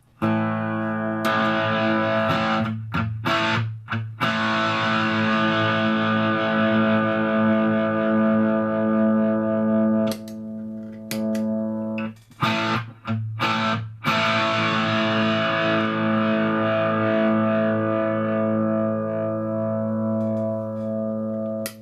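Electric guitar through a RAT distortion pedal, with thick, buzzy chords ringing out and decaying, broken by brief choppy cut-outs, loud and with no voices.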